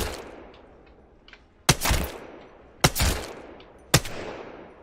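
Three separate loud shots ring out about a second apart, each with a short echoing tail, as a weapon is fired at a target dummy in Apex Legends over a quiet ambient background.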